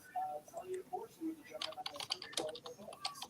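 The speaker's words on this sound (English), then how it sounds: "I hear some typing." Someone types on a computer keyboard during a live sports-draft broadcast, with quick faint clicking taps that grow busier toward the end, while a voice talks softly early on.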